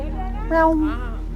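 A cat meows once up close on a rain-slick path in the mountains, a single drawn-out call standing out over a steady low hum.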